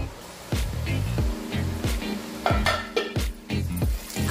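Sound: onions frying in a pan for chicken biryani

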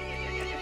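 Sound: horse neighing in a video game

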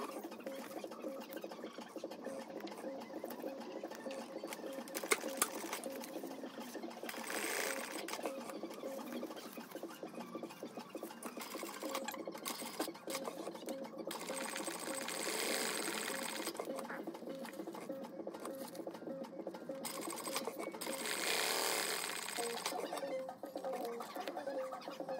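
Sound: sewing machine stitching a DIY compression bag

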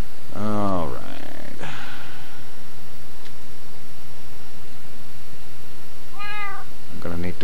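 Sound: cat meowing in Minecraft video game

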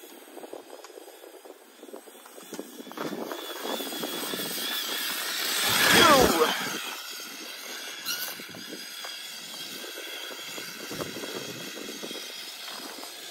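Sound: Traxxas Slash 4x4 RC car driving past on snow

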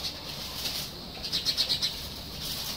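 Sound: songbirds and doves calling in backyard aviary

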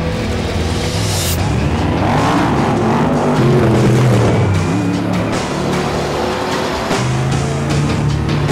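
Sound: Ford F-150 EcoBoost off-road truck racing in Baja

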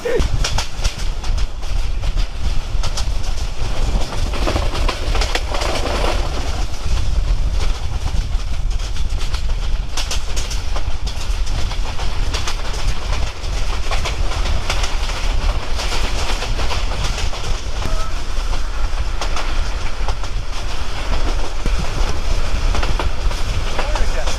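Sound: train ride, filmed from the train

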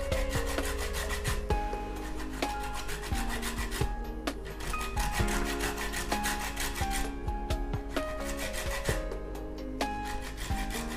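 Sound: zesting a lemon peel for marinade

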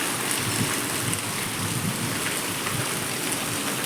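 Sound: heavy rain and strong wind

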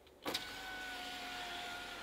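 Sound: BAIC U5 Plus rear electric power window moving

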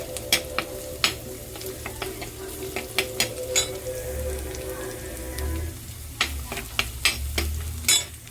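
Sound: ginger, garlic and onion frying in a pan

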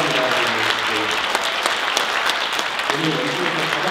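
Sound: applause

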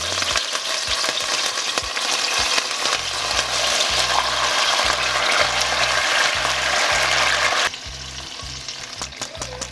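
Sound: chile frying in a hot pot

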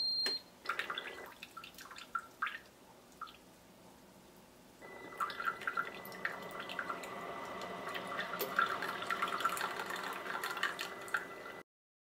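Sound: Ninja DualBrew Pro coffee maker brewing a specialty cup

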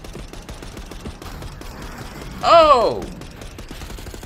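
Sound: gunfire in video game Call of Duty Black Ops 6

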